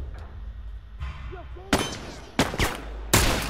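Gunshots from The Last of Us video game, three sharp loud cracks spaced about a second apart, with a faint voice earlier in the scene.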